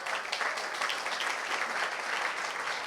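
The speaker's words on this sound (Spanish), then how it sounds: "Dele fuerte aplauso al Señor." Church congregation claps for the Lord during a service, a continuous wash of moderately distant applause that holds an even level throughout.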